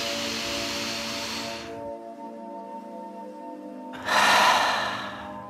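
A long, deep breath is drawn in and then released over quiet, sustained calm music, the airy rush rising and swelling before fading.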